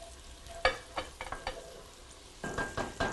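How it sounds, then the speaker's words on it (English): Garlic sautéing in a pan while being stirred, with scraping stir strokes and soft sizzling bursts that recur irregularly, close and moderately quiet, growing busier toward the end. "now we will put in our garlic"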